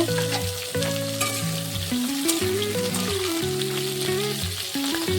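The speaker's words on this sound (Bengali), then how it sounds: "উচ্ছেগুলো একটু ভালো করে ভেজে নেব।" Bitter gourd pieces fry in hot oil in a kadai, a steady, fairly loud crackling sizzle that continues under melodic background music.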